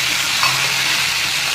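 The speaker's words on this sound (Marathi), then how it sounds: "भाजी दिली मी फोडणीला" Vegetables sizzle in hot tempering oil in a home kitchen, giving a steady, close hiss of frying with faint stirring scrapes throughout.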